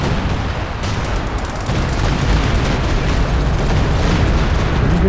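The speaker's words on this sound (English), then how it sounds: "we've got the Howies starting to fire, it sounds like" Howitzer artillery in Company of Heroes 2 pounds away in a dense, continuous barrage of heavy booms and explosions that roll over one another, loud and close, with no pauses.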